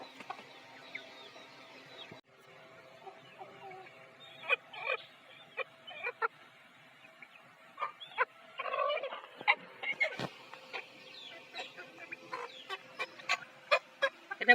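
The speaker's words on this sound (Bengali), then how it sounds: "এটা আমাদের কালো মোরগ।" A black rooster and a flock of desi chickens on a farm, scattered clucks and short calls that grow busier and louder toward the end, with some faint talk in the background.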